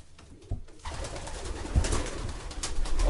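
A prized racing pigeon coos at close range, low soft murmuring calls rising in short bursts with some rustling in between.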